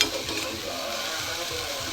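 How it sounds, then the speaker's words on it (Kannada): Salted masala is mixed and fried in a pan, a soft steady sizzle with quiet scraping of the spoon, faint and close, no voices. "ಉಪ್ಪು, ಸಾಲ್ಟ್ ರುಚಿಗೆ ತಕ್ಕಷ್ಟು ಎಲ್ಲ ಚೆನ್ನಾಗಿ ಮಿಕ್ಸ್ ಮಾಡಿ"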